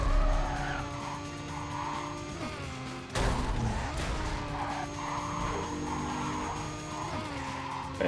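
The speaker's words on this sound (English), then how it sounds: "We are racing on Dover Street." Race car engines whine and tires squeal while street racing in Need for Speed Carbon, with sustained engine tones, repeated skids, and a sharp crash-like burst midway before the engine noise picks back up.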